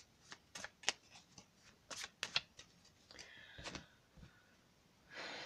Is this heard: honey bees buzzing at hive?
no